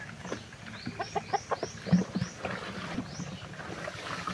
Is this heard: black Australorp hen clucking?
yes